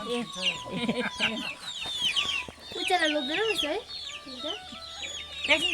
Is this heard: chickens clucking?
yes